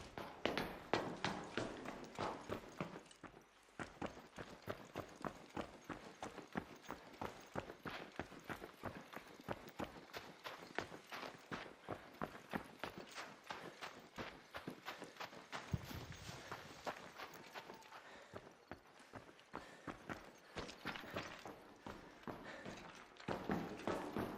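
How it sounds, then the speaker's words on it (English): Rapid, steady footsteps in the video game ARC Raiders, a long run of quick, evenly spaced hard taps that continue with only brief pauses, fairly close and without talk. "Keep thinking I hear footsteps."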